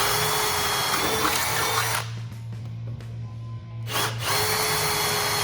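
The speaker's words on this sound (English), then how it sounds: "You see, we're just doing this all with a regular screw gun." A regular screw gun drills loudly and steadily into aluminum, whining at high pitch, briefly dropping to a lower motor hum midway before resuming.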